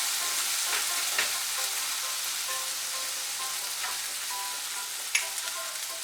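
Poppy seed paste goes into a frying pan for a Bengali drumstick chorchori, and a steady, fine sizzle of frying follows with a few soft stirring scrapes. No one speaks.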